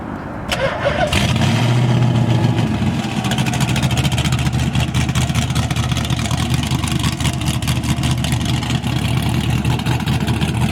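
An LS V8 swapped into a Nissan 300ZX cranks and fires up, a loud near rumble that flares for a moment and then settles into a steady, lumpy idle that holds through the rest of the clip.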